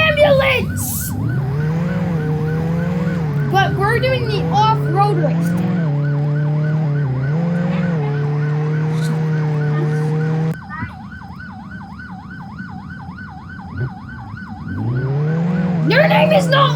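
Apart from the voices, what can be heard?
ambulance siren in video game Roblox Jailbreak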